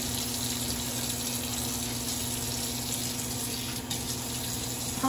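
Water runs steadily from a tap, a constant close hiss and splash with a low hum underneath, no talking.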